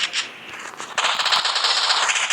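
Bursts of rapid automatic gunfire ring out in a mobile battle-royale shooting game, a dense crackling stream of shots that grows louder and continues steadily after a brief lull.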